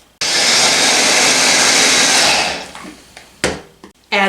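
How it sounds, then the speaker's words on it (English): Food processor grinding half a cup of quick oats, a loud close whirring roar that runs for about two seconds, then spins down. A few short clunks and a brief second burst follow. "1 cup of quick oats slightly ground in a food processor"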